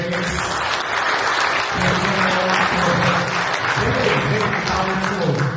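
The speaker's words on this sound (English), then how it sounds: "Can we just please give Jesus a big clap of praise?" A church congregation at Sunday worship breaks into sustained applause, a dense, steady clapping from a full room lasting several seconds, with voices mixed underneath.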